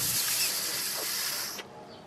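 Compressed air blasts through a brake line to clear out brake fluid, a strong continuous hiss lasting under two seconds before it stops abruptly.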